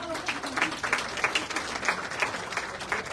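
A fashion show audience in Davenport, Iowa, gives a round of applause, a lively patter of clapping with uneven bursts and some faint voices mixed in.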